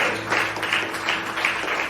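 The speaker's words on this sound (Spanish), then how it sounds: "Dale un fuerte aplauso, papá, porque Él está hablando." A church conference congregation applauds in a moderately loud, pulsing wave of clapping that holds steady throughout.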